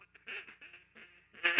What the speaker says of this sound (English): Or the hail call.